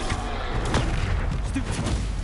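Confringo spell cast in Hogwarts Legacy, a fiery blast amid game combat: a dense, steady burst of crackling, booming impacts lasting a couple of seconds, with a brief voice in the mix.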